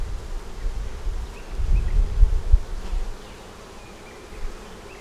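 Honeybees buzz around a hive frame of brood, larvae, eggs and honey, a close, low droning hum that swells in the middle and then eases to a softer background buzz.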